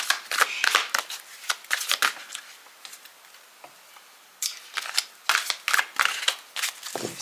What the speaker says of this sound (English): So I can't really hold them, so I have to shuffle them like this.